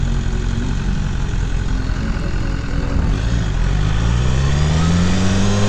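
A 2017 BMW S 1000 R motorcycle engine drones loud and close while riding, holding a steady mid-pitched tone that rises in pitch toward the end as it accelerates, under heavy wind noise with no talking.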